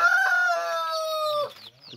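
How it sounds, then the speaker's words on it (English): A healthy village chicken in a rural African family compound gives a loud, close crow lasting about a second and a half, then breaks into a few short clucks. No one speaks. "And this chicken is very, very healthy."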